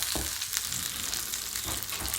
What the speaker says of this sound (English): And that sound you hear is just chicken cooking.